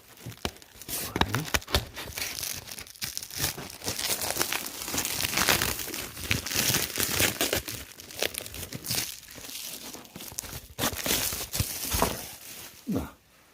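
Plastic foil being pulled off sachets of Felix soup, giving loud, busy crinkling and tearing rustles in irregular bursts, close to the microphone, continuous throughout.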